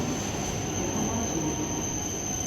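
A train pulls into a station in Tokyo with a steady rolling rumble and a sustained high metallic squeal from the wheels, loud and close throughout.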